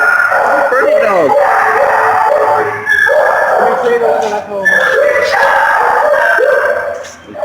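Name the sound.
dogs barking and howling at an adoption shelter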